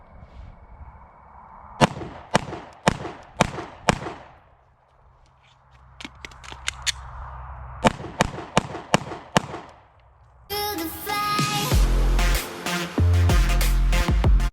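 A Glock 19 pistol fires rapid bursts of sharp, close shots in quick rhythmic groups, mixed with tonal sound effects and, near the end, loud layered music.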